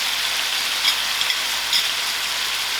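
A pan sizzling steadily after turmeric and thyme salt are sprinkled in, a close, continuous hissing fry with a few faint crackles and no voices.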